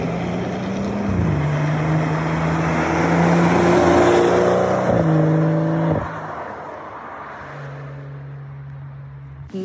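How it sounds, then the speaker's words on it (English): EBC Blue Stuff brake pads squeal when extremely hot on a car, a steady high tonal whine over loud engine and road roar, with pitch shifts as the car slows. "So they will squeal a tiny bit when they get extremely hot"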